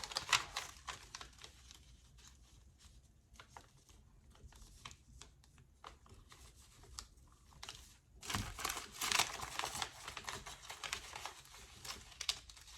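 Fabric for a prom dress rustles and crinkles as it is folded, a soft run of close scratchy brushes and taps that grows louder near the end.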